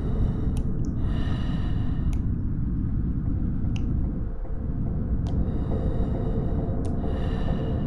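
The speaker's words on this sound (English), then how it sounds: "Y'all hear breathing?" In a horror video game, heavy, rasping breaths and gasps loop continuously at close range, loud and unbroken, with occasional faint clicks.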